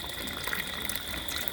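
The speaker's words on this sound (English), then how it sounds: "Just gonna add a little bit more water to make sure that" Water gushes steadily from a tap or spout into a water bath canner holding jars of roasted green tomato salsa verde, a continuous close splashing fill with no talk.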